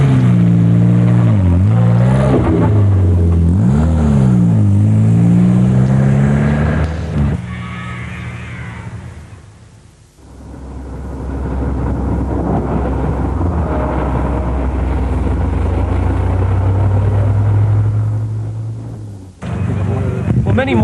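A Morris Minor with a low compression engine drives past, its engine note rising and falling through several loud gear changes before settling into a steady, rumbling cruise, with a brief cut near the end.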